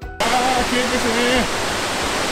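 Yudaki waterfall in Nikko with heavy water flow roars as a loud, steady broadband rush that starts abruptly and holds evenly, with a faint voice briefly underneath.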